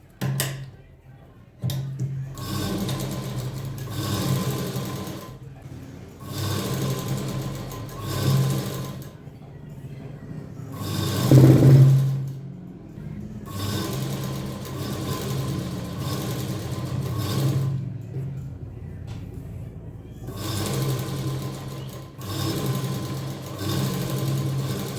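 A sewing machine stitches along the edge of a blouse strip in repeated runs of steady whirring with short pauses between, close by, with a voice talking over parts of it.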